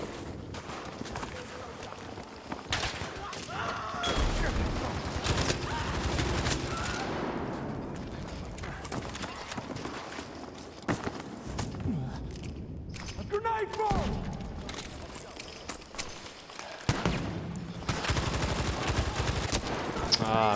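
Rapid automatic fire from a BAR 1918A2 in a first-person shooter game fills the scene in long, dense bursts, mixed with footsteps and other battle noise, while people talk over it throughout.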